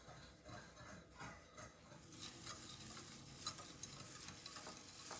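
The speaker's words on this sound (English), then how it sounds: "Now I'm going to take my whisk and I'm going to go ahead and mix the two together" A whisk stirs ground Honey Smacks into a mixture in a bowl, making a steady, soft scraping and swishing that grows slightly busier halfway through. It stays faint and close, with no voices.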